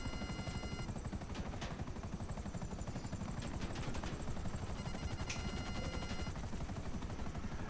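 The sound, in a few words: gunfire in the video game GTA 5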